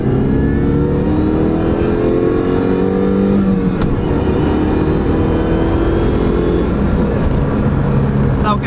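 A 2000s Mini Cooper S R50 drives and accelerates, its engine droning loud and close with rising and falling gear pitch throughout, plus a faint voice underneath.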